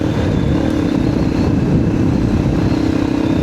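A dual sport motorcycle's engine drones steadily and loudly while it is ridden over a rough mountain road between Mangatarem, Pangasinan and Santa Cruz, Zambales, with wind and road rumble blended in.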